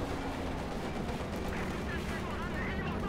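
Gunfire and artillery in a Company of Heroes 2 match between German and Soviet forces, a dense, loud barrage of shots and heavy blasts running throughout with a commentator talking over it.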